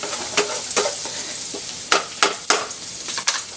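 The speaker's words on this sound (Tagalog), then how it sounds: "Haluin natin. Bayaan natin lumabas yung kanyang aroma." Garlic, onion and ginger stirred in a hot pan, with a soft steady sizzle broken by several sharp scraping strokes of the spoon against the pan, close and clear with no talk.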